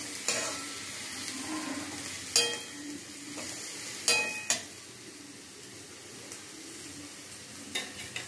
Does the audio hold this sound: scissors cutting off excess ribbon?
no